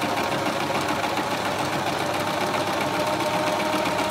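A sewing machine running steadily while stitching a zigzag border, a close, continuous rapid mechanical chatter throughout.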